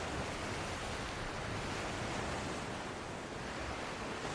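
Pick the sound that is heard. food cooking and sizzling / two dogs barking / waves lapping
waves lapping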